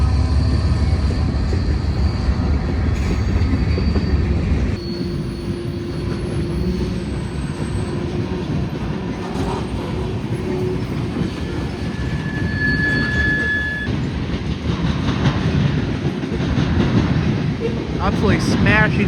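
A freight train rolls across a railroad diamond, a loud, close, continuous rumble with clattering wheel impacts and occasional squeals, the pitch shifting partway through as cars pound over the crossing.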